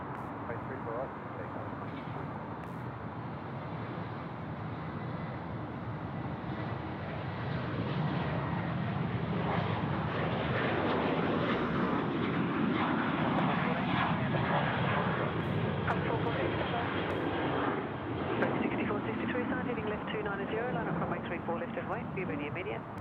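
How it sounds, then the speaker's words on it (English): A Qantas Boeing 737-800 takes off at Sydney Airport, its jet engine roar building from a moderate rumble to a loud, sustained blast that holds for many seconds. Someone talks over it and air traffic control radio is heard. "A Qantas 738 now rolling off to Melbourne this morning."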